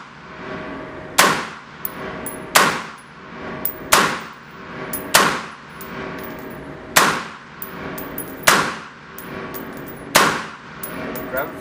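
Gunfire at an outdoor shooting range: eight sharp, loud shots spaced about 1.5 seconds apart in a steady rhythm, each with a bright metallic crack and a short ringing decay, and no talking between them.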